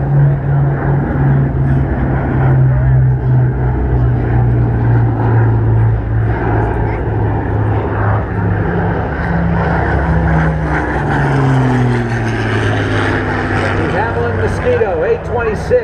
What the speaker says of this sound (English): Here comes the one and only B-29 Superfortress flying in the world.